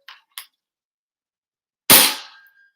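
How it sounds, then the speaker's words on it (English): Dry fire of a 3D printed dart blaster with a K25 spring and a half dart magazine: two quiet clicks, then one sharp, loud snap with a short ringing tail, close up. "I'm just gonna dry fire it."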